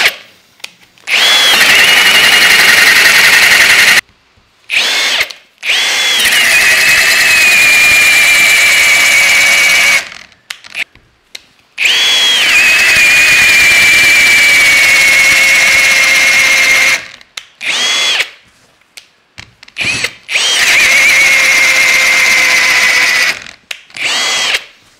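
Cordless power drill boring many holes into an ash tree ring, loud whining runs of several seconds each with a falling pitch as the bit bites, separated by short silent gaps.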